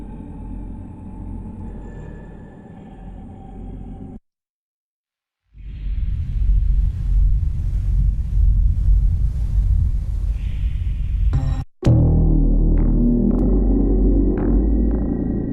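Synthesizer patches from the Absynth 6 demo by Native Instruments: a droning, rumbling pad that cuts to brief silence, returns as a louder throbbing, swooshing texture, stops sharply, then resumes with pinging tones over a low rumble.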